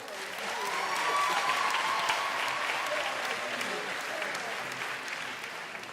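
Audience clapping for professors and management seated on the podium at a university graduation ceremony, a broad sustained wave that swells early and tapers slightly toward the end.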